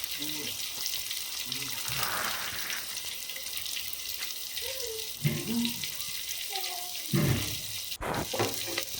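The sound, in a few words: water being added to fried ridge gourd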